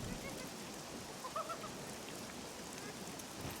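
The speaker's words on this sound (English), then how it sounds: "So, the rain isn't going to really weigh me down." Rain falls in the video game Scum, a faint, steady hiss of drops that runs throughout, with a couple of soft hoot-like tones briefly rising above it midway.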